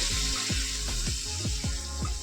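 Masala paste for Bengali-style bata fish curry frying in a pan after a splash of water, a close, steady sizzle with soft scraping strokes of a spoon repeating about every half second.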